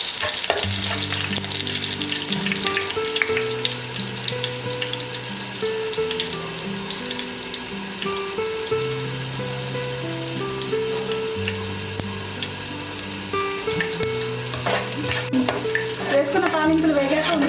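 Cumin, mustard seeds and urad dal splutter in hot oil for a South Indian tempering, a steady close crackle and sizzle running throughout beneath background music.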